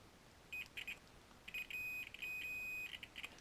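Steady electronic beeps from a multimeter continuity tester probing an amplifier's red and brown wires: short chirps, then a longer sustained tone, then more short bursts, clear and close with no talk.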